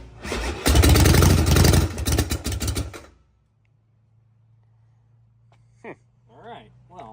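An old chopper motorcycle engine fires up and runs rough and clacky for a few seconds, loud and close, then shuts off into a low hum, followed by brief speech.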